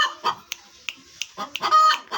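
A live decoy hunting bird calls repeatedly in short, loud, harsh bursts, close by, with brief gaps between calls and no talking.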